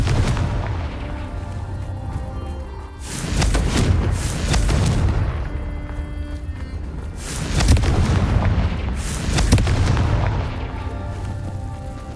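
Repeated Confringo blasting-spell explosions from the Hogwarts Legacy video game, heavy booming blasts arriving at intervals of a few seconds, loud and close with rumbling tails and no talk over them.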